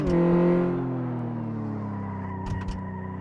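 A car in Car Mechanic Simulator 2014 with poor brakes slows hard, its engine tone sliding downward while the tires skid and squeal, with a couple of short scuffs near the end; no talking.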